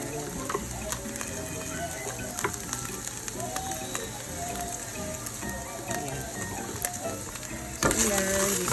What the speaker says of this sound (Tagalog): Ayan, gisa-gisa lang tayo ngayon.